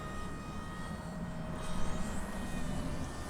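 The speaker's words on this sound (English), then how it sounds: "Big 3D plane out there." A big 3D RC airplane flies at a distance, its motor a faint, steady whine over light outdoor background noise.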